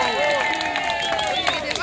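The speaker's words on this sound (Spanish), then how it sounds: "Quiero un fuerte aplauso para Chuchi." Brief burst of plaza crowd clapping for a tango dancer, continuous and moderately loud, with whistling tones and crowd noise layered over it.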